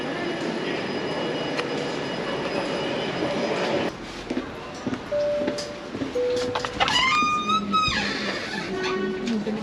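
Inside a busy rail station, a low rumble of trains with squealing wheels and rising tonal whines, punctuated by clanks and nearby voices.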